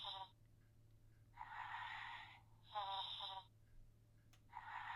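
An animatronic toy bear snores in slow cycles, each long wheezy, buzzing breath followed by a pause, over a steady low electrical hum.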